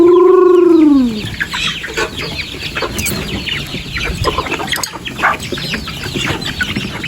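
Chickens being fed leftover food cluck and squawk nearby, opening with one loud drawn-out call, then a busy overlapping flock chatter that continues throughout.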